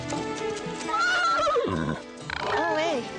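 A horse neighs in a few loud, wavering whinnies over a busy mix of music and voices, with a brief gap before a second whinny.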